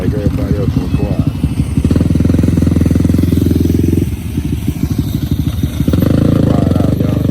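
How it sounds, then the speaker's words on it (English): A dirt bike engine drones loudly and close while riding, its pitch rising and falling with the throttle, as someone talks over the engine noise. "I'm the only one on the dirt bike, everybody else on quad."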